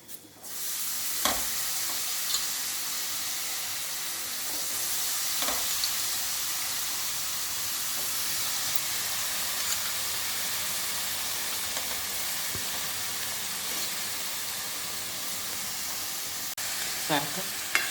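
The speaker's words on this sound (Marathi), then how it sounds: "सारखं फिरवून घेते कोबीला।" Cabbage and peas fry in a pan and are stirred for a dry sabzi. A steady sizzle and hiss run throughout, broken by occasional scraping stirs and spoon taps.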